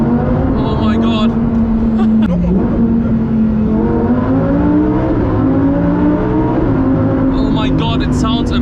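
Lamborghini Huracan Performante in Corsa mode accelerating hard with manual shifts, a loud sustained engine drone rising in pitch through several gears, with a speaking voice over it.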